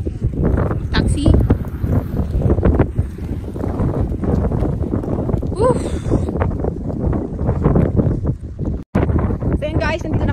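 Wind buffets the microphone in steady gusts, with light drizzle, at High Island Reservoir Geo Park, Sai Kung, Hong Kong, while people talk nearby throughout, with a brief dropout near the end.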